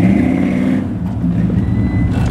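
A Chevy truck with a balky four-wheel drive roars off-road, its engine a loud, close, steady rumble with the pitch shifting slightly as it pulls; no voices are heard.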